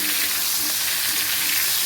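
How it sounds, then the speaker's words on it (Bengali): Cauliflower frying in a pan, a steady close sizzle with a dense broadband hiss that holds evenly throughout, no voices heard. "দেখো ফুলকপি ভাজা প্রায় হয়ে গেছে আর একটু ভাজা হলে আমি তুলে নেব"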